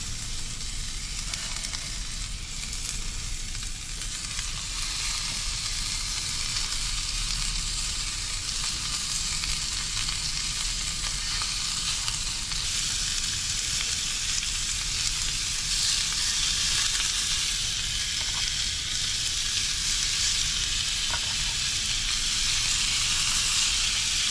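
Onions and garlic frying in a pan inside a car, heard as a continuous bright sizzle and hiss that holds steady and close throughout, with no voices.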